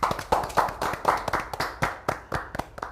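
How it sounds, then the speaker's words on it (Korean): An audience at a history lecture claps in a crisp, rhythmic burst. The sharp, close hand claps repeat at an even pace for several seconds with no voices. "우리 모두를 위해서 큰 박수 치겠습니다"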